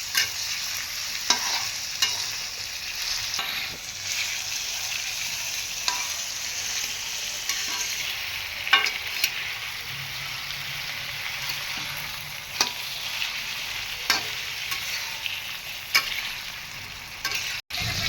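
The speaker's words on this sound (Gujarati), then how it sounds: "પછી ધનિયા, આને ફ્રાય થવા દેવાનું" Coriander frying in hot oil in a pan for matar paneer, a steady close sizzle with scraping stirs of a spoon recurring throughout, no voices.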